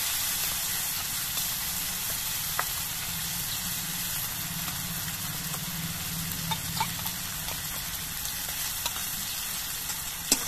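Spiced whisked yogurt goes into a chili-ginger paste frying in a pan, setting off a continuous loud sizzle and steamy hiss with a few sharp spatter pops, no talking.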